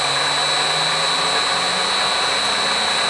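A machine tool spindle spins at 200 RPM ahead of cutting toolholder dovetails, giving a loud, even motor whine with a steady high-pitched tone and broadband hiss that holds unchanged throughout.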